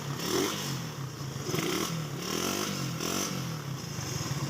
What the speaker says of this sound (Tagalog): Napakatahimik po ng motor oh.